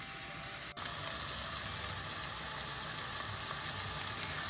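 Salmon fries in a preheated, oiled non-stick skillet with a loud, continuous close sizzle and a brief dip near the start. No voice is heard over it.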